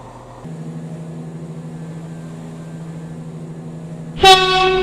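A four-coach train on the Stepford County Railway in the Roblox game rumbles steadily with a low, continuous drone, then a loud horn-like tone sounds near the end.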